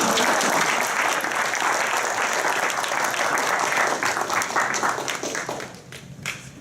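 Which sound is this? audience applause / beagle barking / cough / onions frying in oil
audience applause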